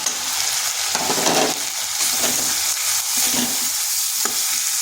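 Ground cumin, coriander and chili powder sauté with tomato in a hot pan for a vegetarian flat-bean curry, giving a steady, close, loud sizzle with scraping stirs throughout and no talking.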